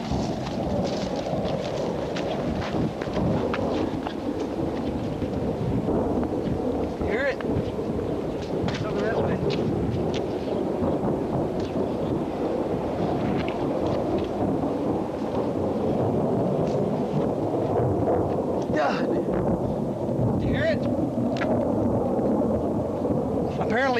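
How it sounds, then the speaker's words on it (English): Distant fighting at a camp in Iraq under rebel attack, with mortar fire and explosions as a constant low rumble and scattered dull booms and cracks. It carries on steadily through the whole stretch under wind noise, and no one speaks. "Listen, you can hear the fighting."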